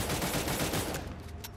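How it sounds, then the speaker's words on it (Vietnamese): An Alpha assault rifle fires a rapid, continuous burst in the game Cyber Hunter, loud and close, then fades in the final half second to a few scattered shots. "Bắn cái khẩu súng trường Alpha tự do này anh em ạ"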